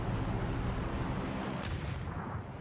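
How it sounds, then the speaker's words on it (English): A grenade goes off during a competitive online shooter match, giving one loud, rumbling blast with a broad, muffled boom that fades slowly over a couple of seconds. "Oh, that's a bad nade right there."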